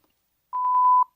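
Electronic beep: a short run of five quick pulsing tones followed by a steady tone, clean and isolated against silence, about half a second long.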